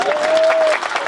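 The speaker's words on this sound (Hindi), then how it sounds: "उसके बाद आपकी तालियां" Audience at a Hindi comic poetry gathering bursts into applause, a dense, steady wash of many hands clapping at close range through the whole brief stretch, with no voices over it.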